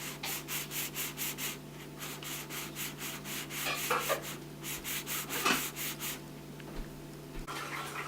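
The button of a car's rearview mirror is sanded by hand to clear off old debris, producing quick, rhythmic back-and-forth scraping strokes, close and fairly quiet, with a brief pause partway through and no talking.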